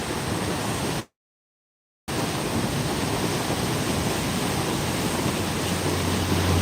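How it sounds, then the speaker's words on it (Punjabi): Floodwater of the Yamuna river rushes past in a loud, dense, continuous roar, cut by about a second of total silence before the torrent resumes unchanged. "ਵੇਖ ਸਕਦੇ ਹੋ ਪਾਣੀ ਕਿਸ ਤਰ੍ਹਾਂ ਦੇ ਨਾਲ ਮਾਰ ਕਰਦਾ ਹੋਇਆ ਜਮਨਾ ਦਰਿਆ ਦਾ"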